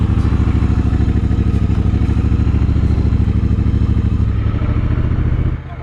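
A Triumph Speedmaster motorcycle rumbles close and loud with a deep, steady low-pitched throb while being ridden, easing down slightly just before the end.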